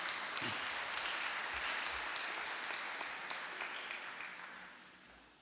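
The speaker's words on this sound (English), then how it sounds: "Another round of applause for our 4 sport athletes." Applause from a high school sports awards audience honoring four-sport athletes, a brief, fairly distant round of clapping that gradually fades out.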